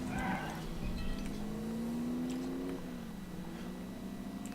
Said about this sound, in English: Take the car back to the garage.